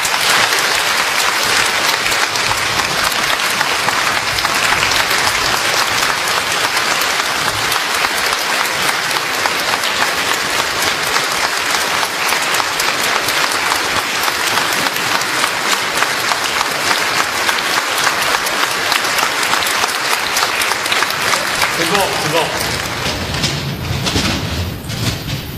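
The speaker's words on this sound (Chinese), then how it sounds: "最后让我们再次热烈掌声感谢连战主席所做的精彩演讲。" Sustained, dense audience applause fills a large hall after a 2005 speech by Kuomintang chairman Lien Chan at Peking University, steady and loud throughout before thinning near the end.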